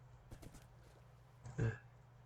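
Horse hooves clop in Minecraft as the horse is ridden across water, a few quick faint steps early on and then one louder thud near the end, all over a quiet background.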